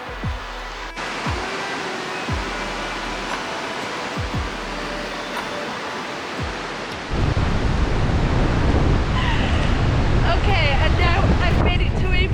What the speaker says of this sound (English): Windy 90-mile beach.